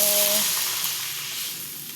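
Sautéed cabbage sizzles loudly in a pan as water is added, the sharp hiss strong at first and then slowly easing; a brief tone sounds near the start and no one speaks.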